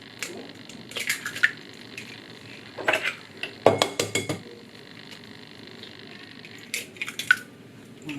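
Eggs being mixed with sugar in a bowl for a heart-shaped cake, heard as scattered metallic clinks and taps of a whisk against the bowl, grouped in short irregular bursts over a quiet room background.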